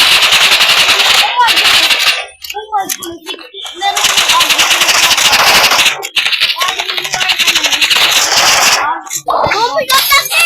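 Rapid, loud gunfire in a video game, a sniper among the weapons, with dense bursts of shots almost filling the clip and excited young voices talking over the action.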